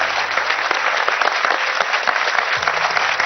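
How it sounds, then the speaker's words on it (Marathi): Sustained audience applause, a dense steady wash of many hands clapping, loud and continuous for the whole stretch with no speech over it. "त्यांना एकदा जोरदार टाळ्या देऊया."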